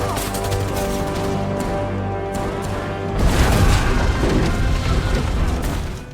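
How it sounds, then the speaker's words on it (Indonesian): A loud film battle scene between Korean fighters and Japanese troops: a dense roar of gunfire and booming blasts breaks in after a few seconds over a sustained musical score. "lalu baku tembak terjadi."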